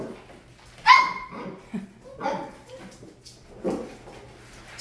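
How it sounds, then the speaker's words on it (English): A litter of puppies gives a few short, high yips and barks, spaced irregularly and fairly close, over a quiet indoor background. "So here is Daisy's litter."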